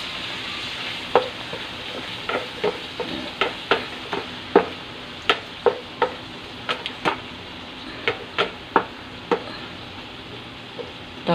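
Garlic, onion and tomato sauté together in a pan with a soft steady sizzle, while a spatula scrapes and taps against the pan in a regular series of sharp strokes.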